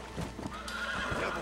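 A horse in the video game Red Dead Redemption Undead Nightmare gives a brief whinny with clip-clopping hooves, faint and close, lasting about a second.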